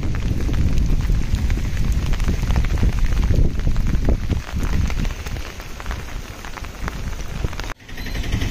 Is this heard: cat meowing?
no